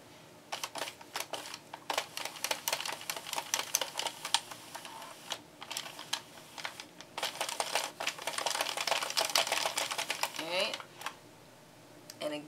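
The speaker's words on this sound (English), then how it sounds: "I just start cranking back that way" A Mini Sentro knitting machine is cranked by hand while knitting flat panels, producing rapid, close clicking and ratcheting bursts in uneven runs with short pauses, fairly quiet throughout.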